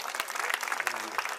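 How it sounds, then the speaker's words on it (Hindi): Audience at a school annual day function clapping loudly and continuously for a short burst, with a voice over the applause. "तो आपके लिए जोरदार तालियां"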